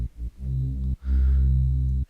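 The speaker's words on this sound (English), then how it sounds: "This one is basically a Reese bass that's following all the notes of the chords." Thick, detuned Reese bass synth in an electronica beat, moving through chord notes in two sustained loud phrases with a brief ducking dip between them, alone with no voices.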